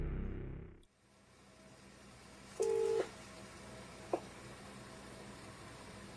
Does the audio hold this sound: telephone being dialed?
yes